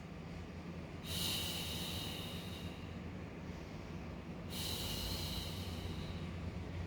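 Two deep, loud breaths through the nose during a Pilates mat class, each a broad hissing rush, one about a second in and one about four and a half seconds in, over a steady low background hum.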